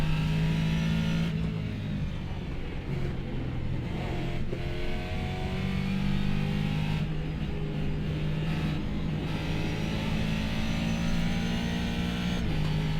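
A race car engine in a racing video game on the Nordschleife, revving hard through rising gear pulls with brief drops at each shift, loud and continuous with no voices.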